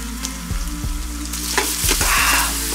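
Ginger paste frying in hot oil, crackling and sizzling close up, with a few stirring knocks against the pan over the steady hiss.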